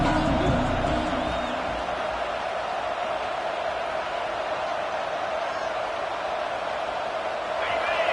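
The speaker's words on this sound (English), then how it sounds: "This crowd bringing the energy and noise early." A packed football stadium crowd at a Texas vs Ohio State game keeps up a loud, steady roar throughout, a broad wall of noise with a commentator talking over it.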